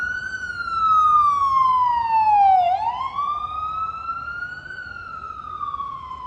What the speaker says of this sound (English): Almost like my voice over the sound of this siren.